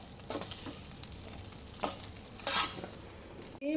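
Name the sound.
squid bondas frying and stirring in a pan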